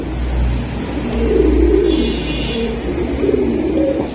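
Pigeons coo in low, throbbing rolls, close and continuous, with a faint steady background hum and no voices.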